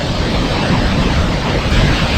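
A loud, continuous roar of rushing water from a waterfall on the Saraswati River at Mana Village, India, fills the clip, broadband and steady, close to the microphone with some wind buffeting.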